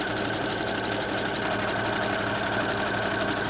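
Sewing machine stitching stacked ribbons, a steady continuous rapid mechanical whir running close and even throughout with no pauses and no voices.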